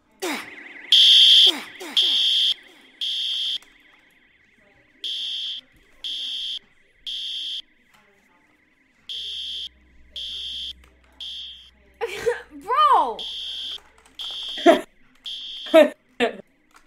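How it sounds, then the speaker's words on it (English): Fire alarm ringing inside a school building in the Roblox video game: loud repeated electronic beeps in an irregular pulsing pattern, with people talking over the later part. "The fire alarm just went off."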